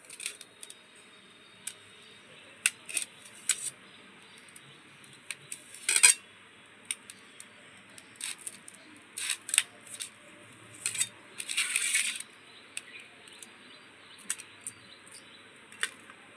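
A knife cutting paneer into pieces in a home kitchen: sparse, faint, crisp taps and clicks of the blade on a board, irregular and close, with a few slightly longer scraping strokes.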